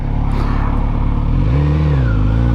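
A motor vehicle passes on a rural back road in Virginia, its loud, close engine drone swelling and shifting in pitch as it goes by.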